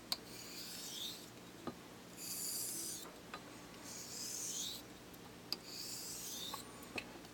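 A Bartmann razor blade is honed on a stone in slow, rhythmic strokes, each a soft, close rasping swish lasting about a second, separated by brief pauses and light taps.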